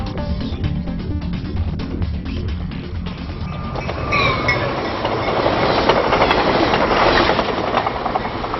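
A train rumbles past through Jharkhand forest with a steady rolling roar that builds over several seconds, with faint metallic squeals near the end.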